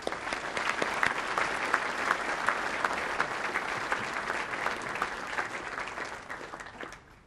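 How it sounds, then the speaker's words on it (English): A conference audience at a business event applauds steadily for several seconds, a dense, even patter of many hands that fades out near the end. "Another applause."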